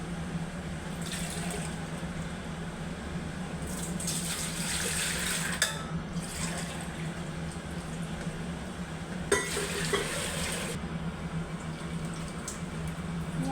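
Water runs steadily into a pot for chicken biryani rice, with faint splashing, bursts of brighter hiss coming and going, and a light clink of the pot.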